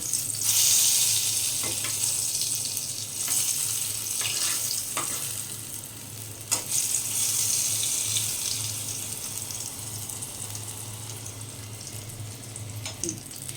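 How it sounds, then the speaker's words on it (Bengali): Eggplant frying in hot oil, a steady hissing sizzle with a few scattered pops and spatula knocks, continuous and moderately close throughout. "বেগুনটা আমি ভালো করে ভেজে নিচ্ছি।"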